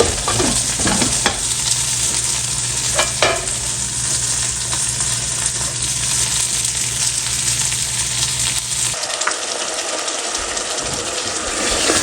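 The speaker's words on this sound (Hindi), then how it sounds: "हम अब गोश्त को भून लेते हैं कि हमारा ऑयल निकल आए गोश्त में से।" Chicken pieces stir-fried in oil with onions and spices for a chicken bhindi dish sizzle steadily and loudly up close, with scraping stirs of a spoon over the pan before the sizzle drops away.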